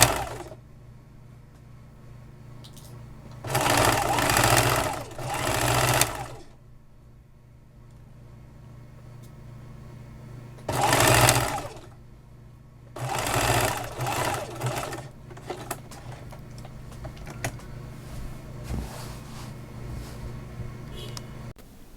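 A sewing machine backstitches along an apron seam in three short, close bursts of rapid mechanical whirring, separated by quiet pauses.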